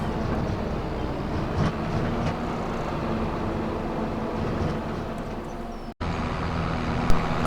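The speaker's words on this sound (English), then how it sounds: "Alright, well, the train just went by." A train in Farming Simulator 25 rumbles past steadily at close range, a continuous low rolling roar with faint clanks that briefly cuts out for an instant near the end before resuming.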